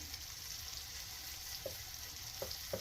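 Butter melts and sizzles in a pan over a gas flame while morel mushrooms are being cooked, giving a soft, steady frying hiss with a few faint crackles.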